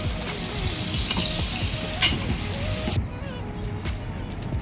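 Khichuri made with masoor dal cooks in a pan with a dense, steady bubbling sizzle that drops sharply in brightness near the end, leaving a softer simmer.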